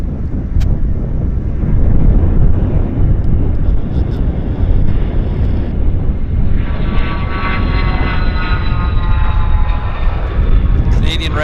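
An airplane taking off at Vancouver airport gives a loud, sustained engine roar with wind buffeting the microphone, and a rising whine grows toward the end.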